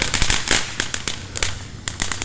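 A Phantom Fireworks Vibrant Voltage fountain firework going off outdoors at a Juneteenth celebration, giving a dense, continuous run of loud crackling pops and sharp bursts with no pause.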